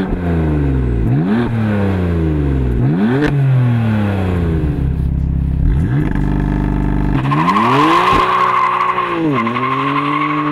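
A 431 hp BMW M3 accelerates hard through its gears, engine note sweeping upward in repeated loud rising pulls with shift breaks between them, close and continuous with no talk.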